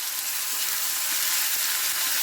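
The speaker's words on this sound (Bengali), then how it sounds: "আদা ও রসুন বাটা দিয়ে এবার ভালো করে তেলের মধ্যে আমি ভালো করে কষিয়ে নেবো" Ginger-garlic paste sizzling in hot oil while being stirred, a dense continuous hiss close to the pan with faint scraping, no voices.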